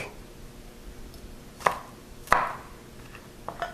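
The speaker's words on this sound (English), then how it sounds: "Okay, so now I'm going to dice up my garlic." A knife chops garlic on a cutting board at home: a few sharp, distinct, close knocks spaced irregularly over a quiet room background.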